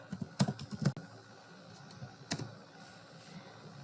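Someone types on a computer keyboard in a quiet room: a few quick clusters of sharp key clicks, then a lone later tap, close and moderately loud over faint background hiss.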